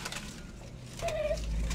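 A dove, a cross between a white and a grey turtledove, gives a single soft coo near the end, close and clear against quiet background noise.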